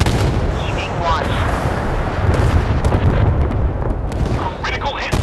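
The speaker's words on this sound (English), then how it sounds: "Ready to open fire on the enemy. Prepare to fire." Warship guns fire at an enemy ship in the naval video game Force of Warships, a dense, continuous barrage of heavy booms and blasts with game voices mixed in.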